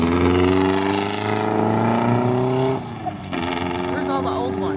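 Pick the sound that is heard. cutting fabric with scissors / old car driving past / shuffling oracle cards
old car driving past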